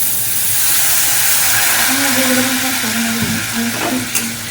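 Steady frying sizzle and hiss from fish masala in a pan as water goes in, a continuous bright wash with a few stirring scrapes near the end, close and fairly loud.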